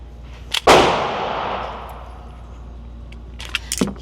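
A single loud shot from an HK VP9 pistol with an upgraded trigger cracks out and rings with a long echo, followed by faint metallic clicks and rattles.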